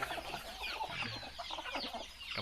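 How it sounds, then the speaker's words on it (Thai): Native Thai village chickens on a farm in the evening, clucking steadily in a dense, overlapping flock chatter as they peck at corn kernels, close and fairly loud with no talk. "ภาพฟาร์มไก่บ้านไก่พันธุ์พื้นเมืองนะครับ"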